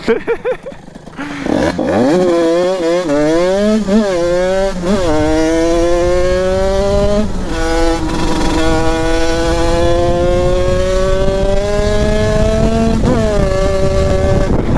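A DT 86 motorbike engine running on nitrous oxide, revving loud and close, its pitch sweeping up and down before holding at a high, steady scream.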